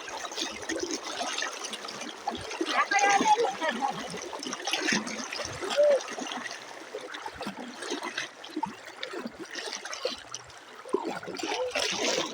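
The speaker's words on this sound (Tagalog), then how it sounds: "Ang ganda ng tubig sa ilog guys." River water rushes and babbles steadily over rocks, a continuous flowing stream close by.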